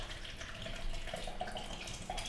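Tap water running steadily into a sink to wash cherry tomatoes, a soft continuous splash with faint drips, close and fairly quiet.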